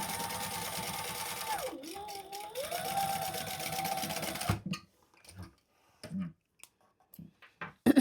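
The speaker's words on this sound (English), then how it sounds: "Now we're going to stitch up the side just so they stay in place." A sewing machine stitching up the side of a zip-around travel wallet, whirring steadily up close with a brief dip in speed, then stopping, followed by scattered handling clicks and taps.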